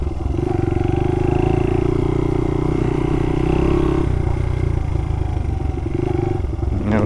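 A Honda XR80 dirt bike engine runs steadily on a trail, a loud, continuous roar with a slight drop in pitch partway through, close and without voices.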